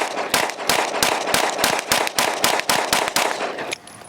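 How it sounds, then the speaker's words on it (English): An all-metal Smith & Wesson M&P Performance Center carry comp pistol is fired about a dozen times in rapid succession at a cardboard target 10 yards out, sharp loud evenly spaced shots. "let's see how this Performance Center metal carry comp first rounds feel"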